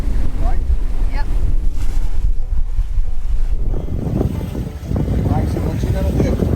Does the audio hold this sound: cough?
no